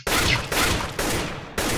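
Automatic rifle fire in CS:GO striking a target, four loud close bursts in quick succession, each a rapid crackling spray of shots without any talk.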